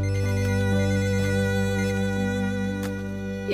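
A phone ringtone plays as a steady electronic melody of sustained tones, fairly loud and alone, continuing for a few seconds without speech.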